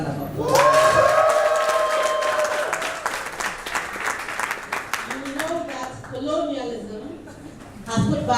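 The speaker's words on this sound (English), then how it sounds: "I think we deserve a round of applause." Audience at a youth leadership conference bursts into loud, sustained applause with cheering, clapping filling the room for several seconds before fading as a speaker's voice returns over the last of it.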